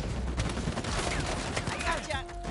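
Dense gunfire rattles in Uncharted 4, rapid overlapping shots in a continuous fusillade, loud and close, with a voice speaking briefly over the barrage.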